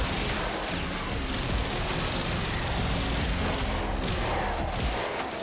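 Mesa's Regulators pistols fire in the video game Warframe as a dense, rapid fusillade of loud gunshots, continuous and close throughout the short burst, with no talk over it.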